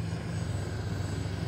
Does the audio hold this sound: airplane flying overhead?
yes